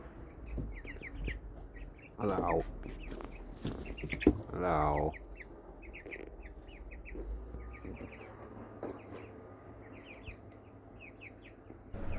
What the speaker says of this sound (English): All these wild jungle chickens are making me feel right at home.